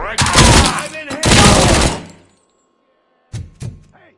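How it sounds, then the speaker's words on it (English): Loud gunfire in the RoboCop: Rogue City video game, two dense rapid bursts of about a second each, then a pause and two sharp single shots with reverberant tails. "Am I hearing gunshots?"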